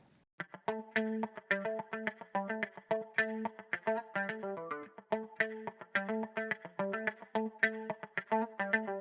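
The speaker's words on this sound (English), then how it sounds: "And what I did with the guitar was I have a loop here from Native Instruments Electric Mint." An electric guitar loop from Native Instruments Electric Mint plays a steady funk figure of clipped, rhythmic chords and notes with effects coloring, repeating evenly throughout with no talking.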